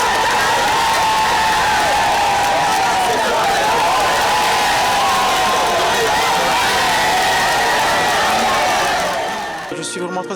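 Compact, very enthusiastic crowd applauding and cheering as military and paramilitary units parade past, a dense continuous roar of clapping and voices held steady and loud throughout, fading slightly at the very end.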